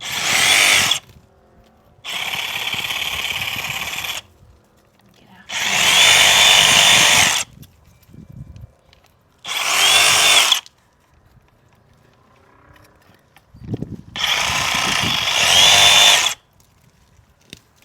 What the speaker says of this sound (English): Then get in there with the Sawzall.